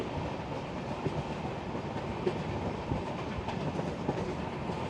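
Steady rumble and clatter heard from inside a moving passenger train in India, continuous clickety-clack of wheels under a low, even roar with no talking.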